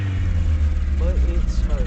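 The 4-cylinder engine of a 1989 Mazda B2200 pickup with a 5-speed manual, a muffler hole and heavy smoke runs close and loud with a low rumble, rising briefly as it revs while a voice talks over it.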